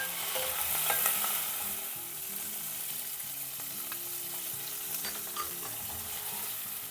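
Cumin, mustard seeds, green chillies, onions and curry leaves frying in hot oil as a tempering, a loud constant sizzle with stirring scrapes and occasional pops, close by and without voices.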